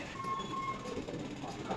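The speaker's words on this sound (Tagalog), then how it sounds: "Train is arriving." Train arriving at a station makes a faint, distant rumble with a faint high tone, steady for nearly two seconds, under quiet background voices.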